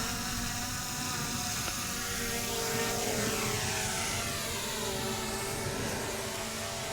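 A DJI Mini 4 Pro drone flying along a runway, an unbroken buzzing propeller whine that holds steady with slight pitch sweeps as it moves, fairly near, with no talk.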